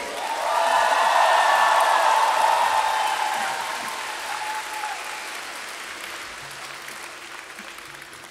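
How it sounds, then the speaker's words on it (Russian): A concert audience at Crocus City Hall applauds a show with orchestra. Loud, dense clapping with a few whoops swells quickly, then gradually fades over about eight seconds. "Аплодисменты Вере!"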